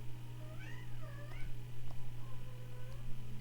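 A cat meows several times, drawn-out wavering calls close by, over a steady low electrical hum.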